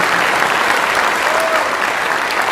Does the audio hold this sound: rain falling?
no